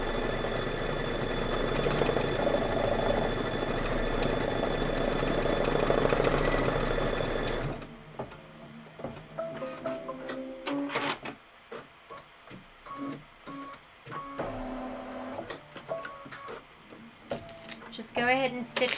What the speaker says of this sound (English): And then you're going to stitch the advent calendar number.